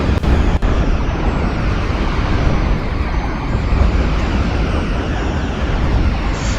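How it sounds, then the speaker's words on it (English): Missile explosions in the space game Cosmoteer form a loud, dense, continuous rumbling roar with overlapping booms and crackle and no voices. "Enterprise fires its missiles."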